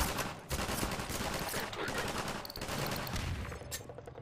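Rapid bursts of gunfire from the Half-Life 2 video game rattle in dense, overlapping volleys, with machine-gun-like fire and sharp single shots continuing throughout.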